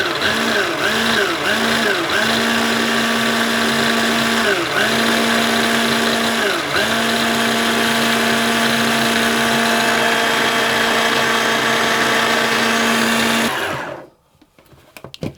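A food processor grinds coconut, opening with several short pulses that rise and dip before settling into a long, loud, continuous whir. The motor then cuts off abruptly near the end, leaving near silence.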